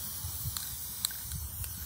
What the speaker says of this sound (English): I'm gonna spray paint directly on here